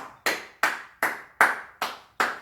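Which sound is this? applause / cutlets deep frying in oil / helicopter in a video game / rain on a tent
applause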